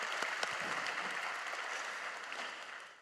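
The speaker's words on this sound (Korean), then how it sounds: "우리 하나님께 영광의 박수 올립니다." A church congregation claps during a Sunday worship service, a fairly soft, diffuse wash of many hands heard at a distance in a large hall, fading toward the end.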